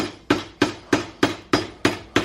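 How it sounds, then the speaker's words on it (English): A hammer strikes separated car prop shaft parts in a workshop, seven sharp metallic blows at an even, brisk rhythm, close and loud with ringing decay between hits and no talking. "Hit all the things with a hammer."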